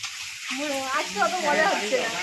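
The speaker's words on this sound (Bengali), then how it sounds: "এই যে সুন্দর করে ডিমগুলো ভাজা হচ্ছে" Crackling sizzle of eggs frying in a pan at an outdoor picnic, steady and close, with a voice talking over it.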